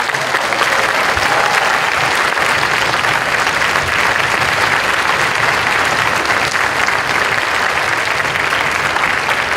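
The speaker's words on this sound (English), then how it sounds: "One more round of applause for Mr. Ottinger." Sustained applause from the audience at a high school orchestra spring concert, a full, even roar of many hands clapping that holds steady for nearly ten seconds without letup.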